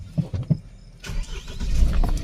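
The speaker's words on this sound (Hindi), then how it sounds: "स्टार्ट करिए भैया गाड़ी" A Force Toofan with DPF regeneration and check-engine warning trouble cranks with a few rhythmic starter pulses, then its engine catches and settles into a rough, rumbling idle, heard up close.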